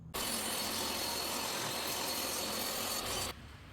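A saw cutting a quarter-inch blonde wood backer board for a picture frame, one continuous rasping cut at close range that runs steadily and then stops.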